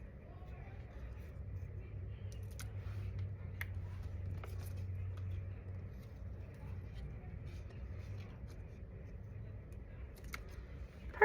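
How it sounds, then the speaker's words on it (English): Scissors snip out paper circles for a mixed-media robot collage, giving a few faint, scattered cuts over a low steady background hum, with a soft voice-like murmur underneath. "I'm going to cut out some circles to go inside."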